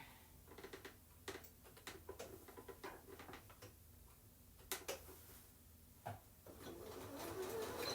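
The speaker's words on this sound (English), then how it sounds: "And we'll sew this last one together." A sewing machine stitches a candy corn colored placemat, its needle tapping out quick, uneven bursts of ticking clicks with brief pauses between runs, close and moderately loud.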